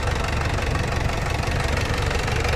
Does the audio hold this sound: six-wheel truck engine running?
yes